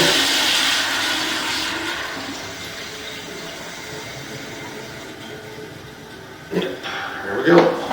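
Water rushes steadily into a toilet tank refilling after a flush, a continuous hissing flow that slowly fades, with a person talking briefly over the sound near the end.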